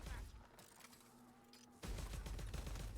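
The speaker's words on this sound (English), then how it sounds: "These repeater pistols mean fucking business, damn. Sounds more rapid than I would have expected, actually." Repeater pistols firing in Vermintide 2: a quick flurry of shots, then a pause, then a dense, very rapid volley of loud, close bangs that carries to the end.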